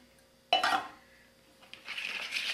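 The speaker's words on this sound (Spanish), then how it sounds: "Seguimos batiendo hasta deshacer todo, el azúcar, la cocoa, la maicena" Whisking milk with sugar, cocoa and cornstarch in a bowl for pan tigre: a sharp clink of the whisk against the bowl, then a steady, brisk scraping and swishing, close and fairly quiet.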